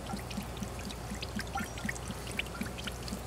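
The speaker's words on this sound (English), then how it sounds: "We're going to pour it in here." Sugar water poured into a feeder on a Langstroth beehive housing a newly installed swarm, a steady low liquid stream with soft trickling and scattered small splashes, continuous and fairly quiet throughout.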